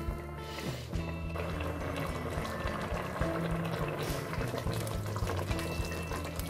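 Homemade salsa sauce simmering in a pot on a stove at medium heat, a soft continuous bubbling hiss with low tonal hum underneath, fairly faint and steady.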